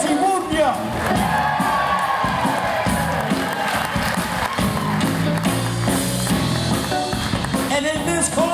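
A crowd roars and cheers at a Nashville event introducing a bassist, loud whoops and shouts swelling over music that keeps playing, with voices mixed into the din throughout.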